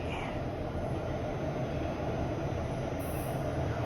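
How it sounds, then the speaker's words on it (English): A Toronto subway train rolls into VMC station, giving a steady, loud rumble of wheels on rails with a brief high squeal partway through. No one speaks. "Look, another train rolling in."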